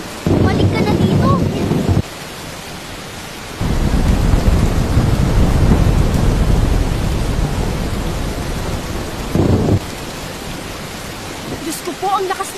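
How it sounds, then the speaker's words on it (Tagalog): Heavy rain pours in a dense, loud roar with rumbling thunder and gusting wind, the intensity surging and dropping in broad waves throughout. "Diyos ko po, ang lakas ng ulan. Parang may bagyo na parating."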